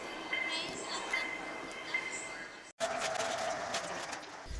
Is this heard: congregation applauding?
no